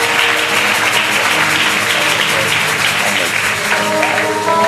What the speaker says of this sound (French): Je veux que l'église acclame Jésus.